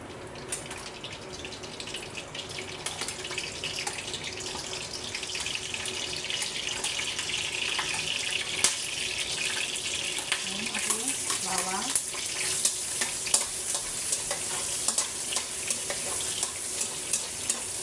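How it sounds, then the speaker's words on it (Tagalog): Onion and garlic are sautéed in hot cooking oil for menudo, giving a steady close sizzle and crackle that runs throughout, with brief stirring scrapes and a faint voice underneath. "Isigisa natin yung sibuyas at bawang"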